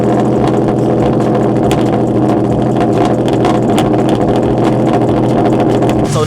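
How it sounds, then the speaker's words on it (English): A port-injection car engine runs steadily as it warms to operating temperature, a loud, close, even idle with a rhythmic mechanical churn throughout and no talk. "start the car up and get it to operating temperature"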